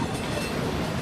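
A CPKC container train behind a new Tier 4 GEVO locomotive rolls past close by, a dense, steady rumble of wheels on rail with no voices.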